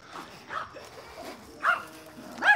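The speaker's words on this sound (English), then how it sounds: "People are walking their puppies, so that's nice." A dog in a park gives several short barks or yips at irregular intervals against soft outdoor ambience, moderately close and with no clear talk over them.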